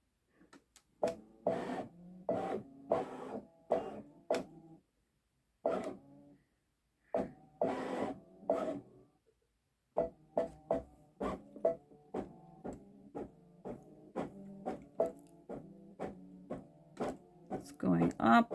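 Babylock Solaris Vision embroidery machine stitching a fox design on a sweatshirt, bursts of rapid mechanical needle clatter separated by short pauses, close and fairly loud.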